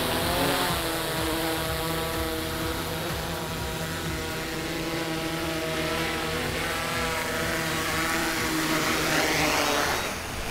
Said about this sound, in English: let's check out how good that precision landing was using the master Airscrew props